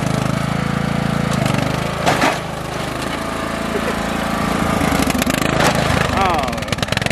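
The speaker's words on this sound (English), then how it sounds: "Let's see if she'll climb some rocks. I have faith in this four-wheeler." Four-wheeler ATV engine droning steadily as it tries to climb over rocks, with clunks and knocks from the terrain and someone talking over the motor throughout.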